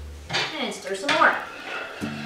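Coconut toasting in a pan is stirred with a utensil that clinks and scrapes against the metal in a few close strokes, while a person talks over part of it.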